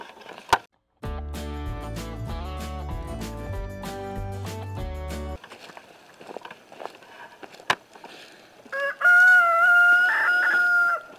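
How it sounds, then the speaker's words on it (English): Musical tones play briefly before scattered soft clucks, then a rooster lets out a loud, clear crow nearby. "Today we're just going to go check up on the chickens, see how they're doing"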